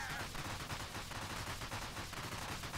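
Rapid, continuous bursts of explosions and gunfire-like blasts from a Teenage Mutant Ninja Turtles video game, a dense and quiet barrage with no pause.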